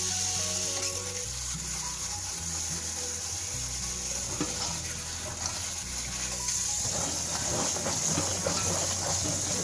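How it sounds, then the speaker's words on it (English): Dry chickpeas rinsed under running tap water in a big colander, a steady close hiss and splash of water over rattling beans, continuous and fairly loud, with hands stirring them. "use yourself a big colander, dump them in like that, and then you're going to go ahead and rinse them really well"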